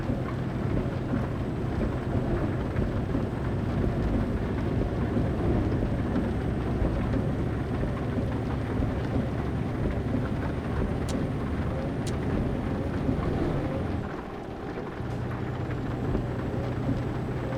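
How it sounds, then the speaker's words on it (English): Continuous heavy rain in Euro Truck Simulator 2, heard from a truck cab, with a low rumbling drone underneath, steady and enveloping throughout, with a couple of brief clicks near the end. "The rain's not as bad now, so we'll just decrease the intensity of the window wipers."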